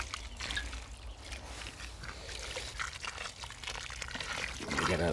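Reused water pours and trickles onto a dry allotment bed, once sown with parsnips, as a soft close splashing flow that swells toward the end.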